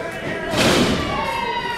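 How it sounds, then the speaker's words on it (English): A wrestler's drop kick lands in the ring at an indoor wrestling show, a single muffled thud with a crowd roar swelling behind it while a commentator talks over it. "Got just enough of that drop kick."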